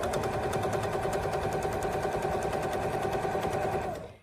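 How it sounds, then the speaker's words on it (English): Sewing machine stitching binding onto a quilt, a fast steady mechanical whir with rapid regular needle ticks, close and continuous before stopping abruptly at the end, no talking. "Continue sewing the binding along the next side of your quilt."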